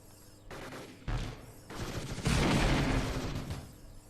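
Robot sniper gunfire in the video game Gladiabots, a few sharp shots followed by a denser burst of firing, moderately loud with no talking.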